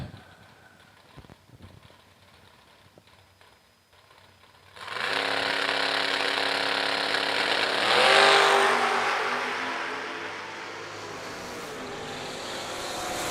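Drag race cars launch at a drag strip event, a quiet start giving way to a sudden loud, sustained engine roar that swells further as the cars, one a Monza, charge down the track.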